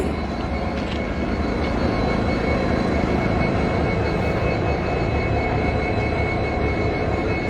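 A railway relief train at the site of the derailed Bikaner–Guwahati express near Maynaguri, Jalpaiguri district, gives a constant, loud, broad rumble that holds steady throughout without breaks or speech.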